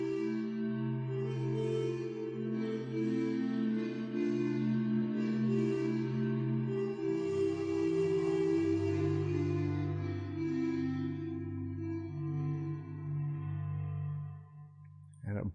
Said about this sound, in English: I love the water phone sounds